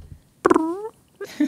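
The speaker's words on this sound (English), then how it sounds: "So you can say, Alexa, fart." An Alexa smart speaker plays a fart sound effect: a sudden rasping burst that slides into a drawn-out wavering tone, followed by a shorter second blast after a brief pause.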